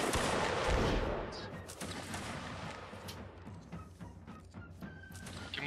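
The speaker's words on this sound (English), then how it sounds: "Ripple fire from the right. Fire." A line of reenactment infantry from the 54th West Norfolk Regiment of Foot fires a rippling musket volley, shots rolling down the line in a loud, dense burst that tails into scattered cracks and echo, with voices faint beneath.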